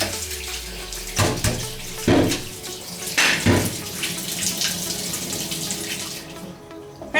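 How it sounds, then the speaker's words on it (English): Running tap water splashes as a pot is rinsed out at a kitchen sink while cooking callaloo, with a steady close gush broken by louder surges as the pot shifts under the stream, then cut off. "I'm rinsing it out."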